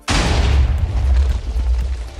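A TNT artillery cannon in Minecraft fires and explodes, one loud, close boom with a sudden onset and a long rumbling decay, no talking.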